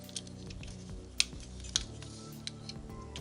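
Plastic side panels on a Lego Transformers G1 Ratchet model being flipped and folded, producing a few sharp, brief clicks and snaps over a low steady background hum, close and fairly quiet.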